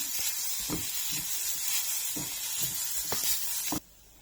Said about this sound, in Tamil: கால் மூடி அளவுக்கு தேங்காய் எடுத்து துருவி வச்சுருக்கேன் அதை ஆட் பண்ணிக்கலாம் அதில் நல்லா ரோஸ்ட் பண்ணி விடலாம்